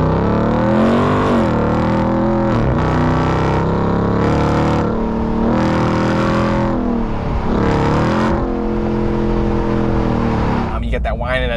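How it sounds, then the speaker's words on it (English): Supercharged engine of a 2023 RAM TRX Havoc Edition pickup revving, loud rising and falling whine with strong harmonic sweeps as the engine climbs and drops repeatedly, close and dominant. "You get that whine in that supercharger"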